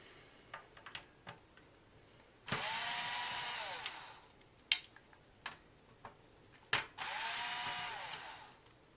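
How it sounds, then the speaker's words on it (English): Power screwdriver backing screws out of a Nintendo NES console, two sustained whirring bursts of the motor each lasting about one to two seconds, separated by sharp clicks and taps of handling the plastic case, close and fairly loud. "So what we're going to do now is we're going to take these screws out."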